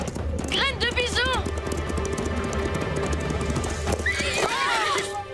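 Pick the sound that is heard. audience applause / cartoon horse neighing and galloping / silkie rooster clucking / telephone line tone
cartoon horse neighing and galloping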